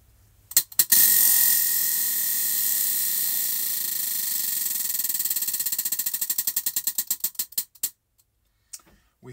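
A prize-style wheel spins with fast ratcheting clicks that gradually slow and space out into separate ticks before stopping, close and clear with no talk.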